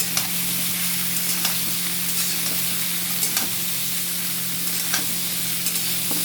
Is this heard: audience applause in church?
no